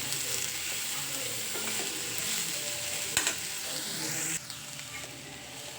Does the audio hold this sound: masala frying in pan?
yes